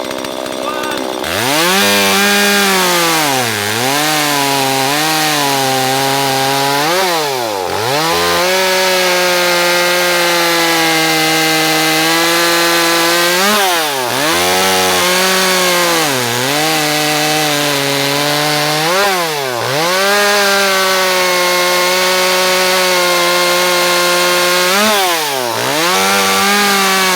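A petrol chainsaw cuts through wood, its loud engine snarling in long bursts with rising and falling pitch between cuts and brief drops to idle, close and dominant throughout.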